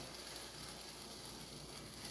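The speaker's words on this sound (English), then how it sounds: "scoop out the batter, put it in the pan. You should hear a bit of a sizzle." Oat flour pumpkin spice pancake batter sizzles in a hot pan, a steady, soft hiss that continues evenly throughout with no talking.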